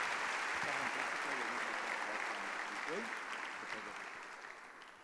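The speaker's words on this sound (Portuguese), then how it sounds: "Pode aplaudir o Senhor pela vida desse homem de Deus." Congregation applause for a preacher at an evening church worship service: dense, sustained crowd clapping that gradually fades, with a voice speaking faintly underneath.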